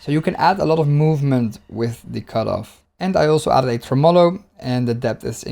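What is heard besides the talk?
None of the usual background noises is heard.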